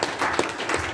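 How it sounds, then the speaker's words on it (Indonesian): Congregation applause during a church sermon at MDC Bekasi Timur, a brief, dense burst of many hands clapping in a reverberant hall, steady and moderately loud. "Tepuk tangan buat Asyir."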